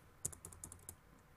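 Rapid typing of a formula on a computer keyboard in Excel, about a dozen quick, light clicking keystrokes in an uneven burst, close and fairly faint, with no voice.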